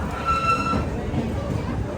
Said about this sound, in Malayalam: അങ്ങനെ നാഗ്പൂർ റെയിൽവേ സ്റ്റേഷനിൽ നമ്മുടെ ട്രെയിൻ എടുത്തിരിക്കുകയാണ്